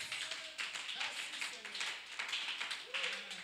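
A church congregation applauding in worship, with a steady patter of clapping under a voice that keeps speaking over it.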